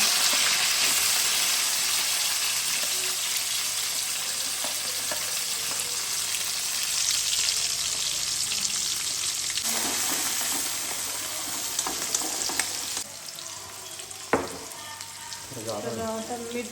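Onion frying in a pan for dry cabbage manchurian makes a strong, steady sizzle that thins out toward the end, with a few clinks and scrapes of stirring near the close and no voices.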